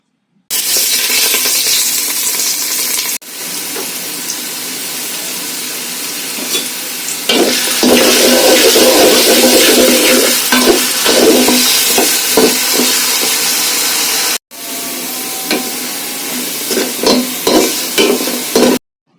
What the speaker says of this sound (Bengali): এখন কিউব করে কাটা দুটি আলু ভেজে নিচ্ছি